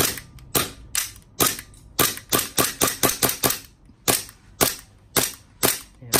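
A WE Glock airsoft BB pistol firing, a long string of sharp, loud cracks in uneven bursts, some shots close together and others spaced apart, with no talk.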